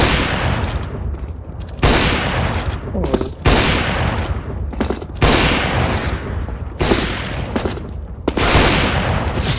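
Rapid bursts of gunfire in the video game Counter-Strike: Global Offensive crackle in loud, repeated volleys separated by brief pauses, with dense shooting filling most of the span.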